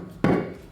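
A single dull thump as a soft hammer strikes a beadlock wheel being fitted on a TJ Jeep, close and fairly loud, fading quickly with no talk.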